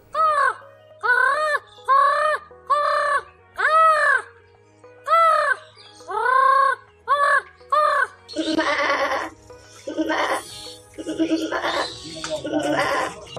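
A human voice imitates a crow, giving a run of harsh, rhythmic caw-like calls one after another, then rougher, noisier cries toward the end.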